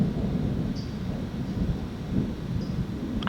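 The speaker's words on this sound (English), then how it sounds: "We now have thunder." Thunder rumbling from a darkening storm while camping in a tent, a steady low distant roll that fills the whole stretch with no voices.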